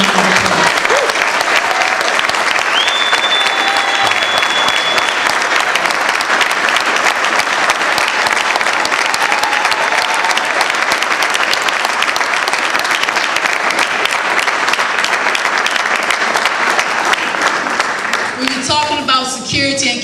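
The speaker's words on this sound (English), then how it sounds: "please give them a nice big round of applause" Loud, sustained audience applause for a group of brothers asked to stand, a dense steady roar of clapping with some cheering that lasts nearly twenty seconds before tapering off.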